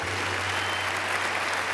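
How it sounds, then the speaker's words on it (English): A large keynote crowd at a corporate conference gives a sustained, dense wall of applause, continuous and even with a low steady hum beneath it. "big round of applause for David Garibaldi"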